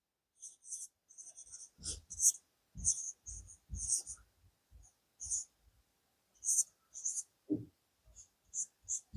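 Pen strokes on paper while working a Class 10 maths equation, with short scratchy bursts coming in an irregular rhythm, close and crisp, between quiet murmured speech.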